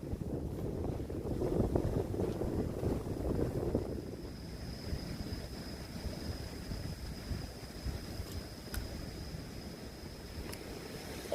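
Strong gusting wind buffets the microphone at a coastal fishing spot on a gale day, loudest in the first four seconds and then settling into a steadier low rush, with a faint high tone in the background.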